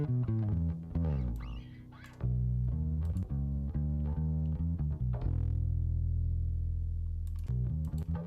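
Distorted, compressed bass sits in a music mix, with a thick, sustained low end that has a gritty edge, pulsing through the changes of a loud, dense track without any voices.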